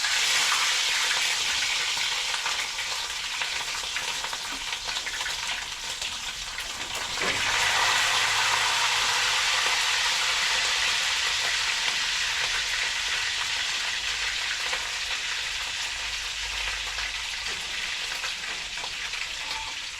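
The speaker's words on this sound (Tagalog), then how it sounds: "prito muna natin tong lechon manok na natira kagabi" Leftover roast chicken (lechon manok) frying in hot oil, a loud continuous sizzle throughout, briefly disturbed midway by a stir or movement of the pieces, with no talking.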